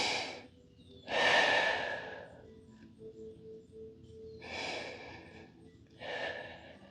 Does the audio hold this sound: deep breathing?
yes